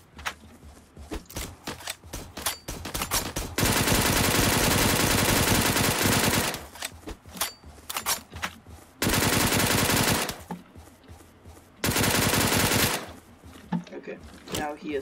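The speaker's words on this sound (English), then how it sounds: "just spam shots" Rapid automatic gunfire in a PUBG-style battle royale video game, loud sustained bursts several seconds long broken by quieter gaps of scattered shots and clicks.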